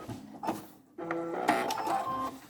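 A sewing machine backstitches a triple-layer washable fabric face mask, giving short mechanical bursts of stitching that stop and restart, moderately close with no talking.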